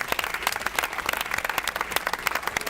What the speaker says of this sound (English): A round of applause for Tyler as well, guys.